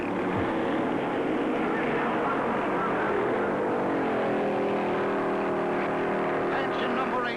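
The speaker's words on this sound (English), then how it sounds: "The front runners roar away, leaving a dust and grit-filled tornado as they head for the first turn" Stock cars, including Fords, a Chrysler and a Chevrolet, roaring away at the start of the 1956 Darlington Southern 500, a dense continuous engine roar with rising whines as the field accelerates toward the first turn, narration running over it.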